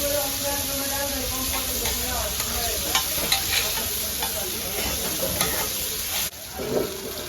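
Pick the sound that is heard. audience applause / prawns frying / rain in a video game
prawns frying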